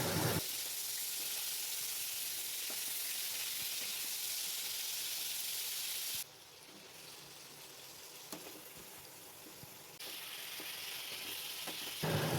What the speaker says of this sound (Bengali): আস্তে আস্তে ঝিঙেগুলোকে ভেজে নিচ্ছি।